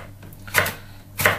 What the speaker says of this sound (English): To finely chop an onion,